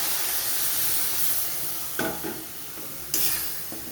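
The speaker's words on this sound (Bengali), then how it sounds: "এবারে আমি দিয়ে দেবো সামান্য পরিমাণে জল, যাতে পেঁয়াজটা একটু সেদ্ধ হয়" Fried onions hiss in a hot pan with a continuous broadband sizzle. The sizzle flares in two sharp bursts as water is poured in.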